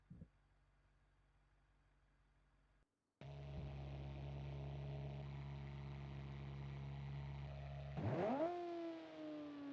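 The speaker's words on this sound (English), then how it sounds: "why does it sound like this? It's a gigantic V8." A 4-liter V8 supercar engine in the video game BeamNG.drive idles low, cuts briefly, then settles into a loud droning idle before a sharp rising rev that falls back.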